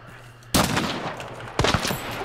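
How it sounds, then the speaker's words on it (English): Gunfire in a video game bursts in loudly at about half a second and rattles on. A second sharp volley follows near 1.6 seconds, with no voices over it. "I'm getting shot at"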